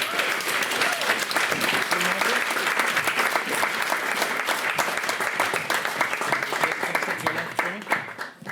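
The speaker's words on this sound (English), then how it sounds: "Give Michael and Susanna a round of applause." A puppet theatre audience claps steadily and fairly loudly for about eight seconds, a dense even patter with a voice faintly audible under it.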